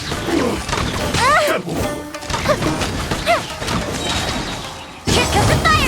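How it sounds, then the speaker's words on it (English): Genshin Impact battle effects: a rapid series of bursting bangs, whooshes and whistling sparkles from a fireworks attack, with short voiced exclamations mixed in. "Here comes the fireworks!"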